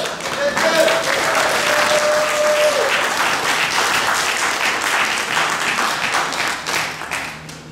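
A church congregation applauds and cheers in praise, with dense sustained clapping and a sung or shouted voice rising over the crowd. The applause stays loud and steady before easing slightly toward the end.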